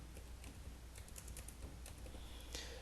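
Quick, light keystrokes on a computer keyboard as a company registration number is entered, a short burst of clicks over low background noise, with no voices.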